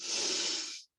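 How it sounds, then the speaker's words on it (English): Deep in-breath during a tai chi session, a single soft airy inhalation close to the mic that swells and then cuts off. "breathing in"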